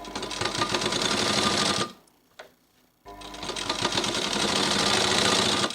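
A sewing machine runs fast stitches through fabric while piping is sewn on a leaf-shaped edge. The dense, even mechanical chatter pauses for about a second, then a single click sounds and the stitching resumes at full speed. No one speaks.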